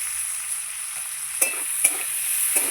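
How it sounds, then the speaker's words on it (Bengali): Flat beans sizzle steadily in hot oil, with a few louder stirring scrapes breaking through the frying hiss. "সিমগুলোকে লাল লাল করে ভাজবো"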